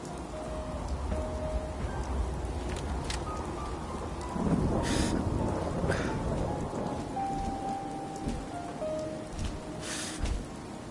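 Rain and thunder in the Fallout 4 video game: steady hiss of rainfall with a deep rolling thunder rumble swelling midway, plus brief crackling bursts, with no talking.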